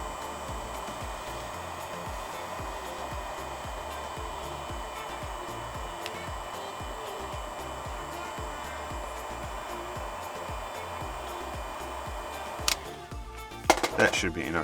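A blow dryer heating the front screen of an iPhone XS during a repair runs as a steady, close whoosh throughout, then gives way to a few sharp clicks and knocks near the end.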